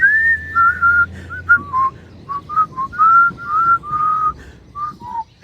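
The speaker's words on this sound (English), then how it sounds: "I'm going to start whistling pretty soon." A person whistles a wavering tune alone, the short, clear phrases stopping and starting in an irregular rhythm over a quiet background.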